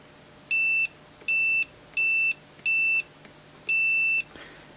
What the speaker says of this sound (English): So we've got the Fluke 175 here. Got on continuity.